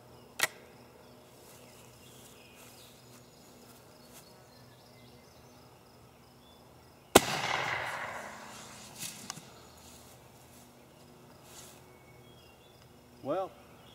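Homemade smoke cartridge fired from an RV85 launcher outdoors: one sharp launch bang followed by a fading hiss of smoke, then a few faint thumps and clicks over a steady insect-like background hum.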